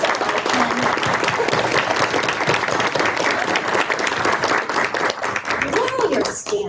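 Graduates standing at a graduation ceremony receive steady applause from the crowd, continuous mid-distance clapping across the full seven seconds, with some voices faintly mixed in and a few calls near the end.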